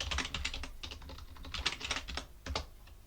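Computer keyboard typed fast at close range while a terminal command is entered, a quick irregular run of key clicks with a brief pause before the last few taps.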